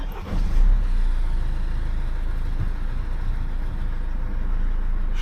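A Mercedes OM651 diesel engine in an S204 C-Class, after a timing-chain replacement, catches and settles into a steady, close, low idle rumble with no talking.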